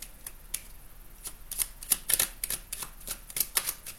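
Oracle cards are shuffled by hand, making a rapid run of crisp, papery clicks and flutters. The sound is close and moderately loud, with no talking.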